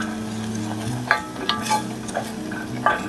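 Miso soup being stirred in a pot, soft scraping and clinking strokes at irregular intervals with a faint sizzle underneath, close and quiet, no talk.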